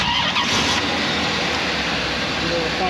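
A 1994 Chevrolet Corvette with a 5.7-liter LT1 V8 runs close by with a loud, steady engine drone and an even, unbroken rumble throughout.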